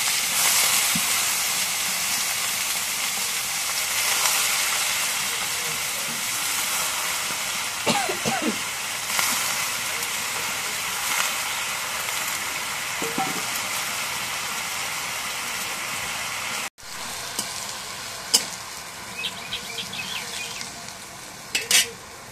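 Dried fish sizzles and hisses steadily in hot oil, with Malabar spinach added and occasional stirring clatters and scrapes, and the frying stays close and constant before brief clinks near the end.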